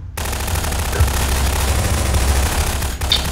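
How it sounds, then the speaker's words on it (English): Continuous loud rapid gunfire in the video game Garry's Mod, rattling bursts of shots that barely let up, with a brief dip near the end. "I can hear gunshots everywhere."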